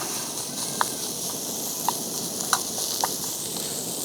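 Defrosted sausage fries hot in a pan on a portable camping stove, giving a steady broad sizzle with a few small pops spaced out over the clip.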